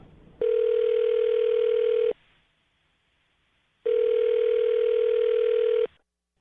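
Telephone ringback tone heard on a radio show call, two long steady beeps of about two seconds each separated by a quiet gap, clean and loud over a phone line.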